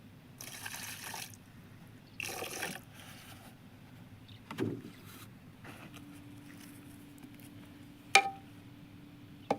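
Water splashes into raw khichdi cooking outdoors in a forest, in several short pours and splashes separated by quiet gaps over a low hum.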